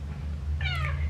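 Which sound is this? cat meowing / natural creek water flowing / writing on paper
cat meowing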